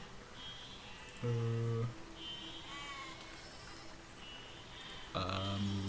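Sheep in the game Besiege bleat twice, loud and close, each a short wavering baa about half a second long, over a steady background hum with faint tones.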